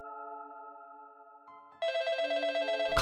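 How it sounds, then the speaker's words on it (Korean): An old landline telephone rings with an electronic bell tone, starting partway through after a softer steady tone, then ringing loudly and clearly with no voices. "갑자기 전화벨이 울리기 시작했다."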